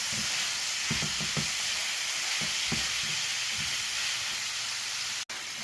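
Shallots and pear sizzle steadily in a pan, a constant bright frying hiss with occasional soft stirring clicks and scrapes near the start, ending with a brief clunk.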